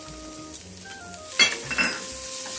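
Curry leaves, asafoetida and coconut roast in oil in a pan, giving a soft sizzle with a few metallic clinks and scrapes of a spoon against the pan.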